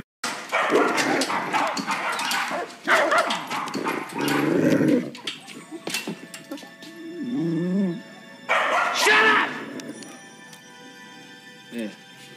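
A dog in a warehouse barks and whimpers in short bursts, loud and close, between stretches of people talking nearby.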